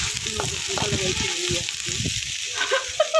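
Ginger, onion and garlic sauté and sizzle in a hot pan with steady crackling frying, a few stirring clanks near the end, and a voice speaking over it.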